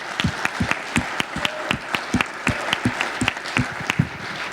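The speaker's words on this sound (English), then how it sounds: "Let's give a big round of applause for them for putting on such a great event" Conference attendees at Loop Conf in Las Vegas give a short round of applause for the organizers, heard as a fairly sparse, rhythmic patter of distinct claps.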